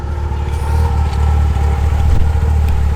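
A car engine revving loudly with a deep, rumbling diesel-truck-like tone, steady and close, sustained for a few seconds with no talking.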